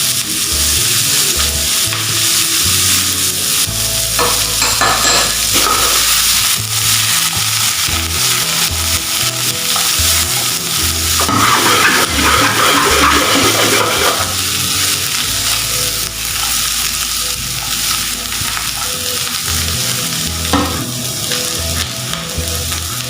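Hash potatoes with chili and parsley fry in a pan, a steady, loud sizzle with bursts of stirring and scraping running throughout, no talking.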